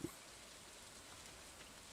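Soft, steady rain falls across the farm in Stardew Valley Expanded, a faint continuous hiss of drops with no other sounds standing out.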